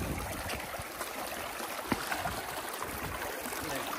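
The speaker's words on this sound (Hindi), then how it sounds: "पानी का साउंड सुने गाइस, पानी का साउंड।" Steady rushing water of a flowing stream at Singaul Jharna waterfall in Nepal, continuous broadband hiss with a faint gurgle, no voices over it.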